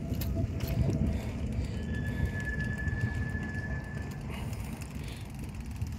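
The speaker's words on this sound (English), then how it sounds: "There's a tram coming by." A tram passing on a city street near the Meadows in Nottingham, a low rumbling roll with a faint steady squeal, heard from a bicycle ride over steady wind and road noise.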